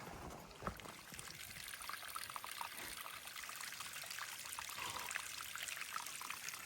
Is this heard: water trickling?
yes